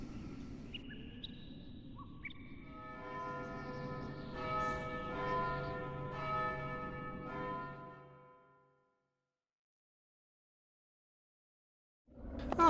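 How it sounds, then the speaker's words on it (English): A deep bell tolls with a long ringing, shimmering decay in the video game Vagrant Story, layered over rising musical tones before fading into silence, followed by a sudden loud sound at the very end. "every time you hear that bell, which happens in key moments during the game"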